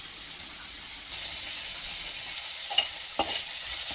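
Garlic, salt and cumin stir-fried in a pan for Kerala-style spinach thoran: a steady, close sizzle and hiss with a couple of sharp spatula scrapes near the end, no talking.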